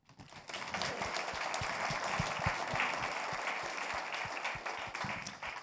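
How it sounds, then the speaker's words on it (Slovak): Conference audience breaks into applause at a business awards event, rising quickly into a full, brisk clapping with some sharp individual claps standing out, sustained steadily to the end. "Potlesk."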